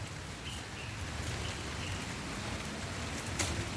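Steady rain falls on a school vegetable garden, a dense, even hiss of drops on leaves and soil that holds close and constant throughout, with one brief sharper patter near the end.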